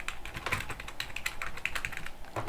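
Rapid, close clicking keystrokes on a computer keyboard, comparing mechanical and membrane keyboards, an uneven patter of taps continuing alone for a couple of seconds.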